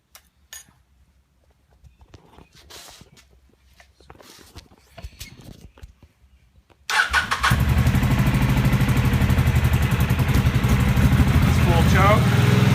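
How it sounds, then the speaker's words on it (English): Kawasaki VN750 motorcycle engine cold-starting at full choke: quiet handling and small knocks at first, then the engine catches and settles into a loud, steady, close idle for the rest. "a video of my bike starting from complete cold. First at full choke"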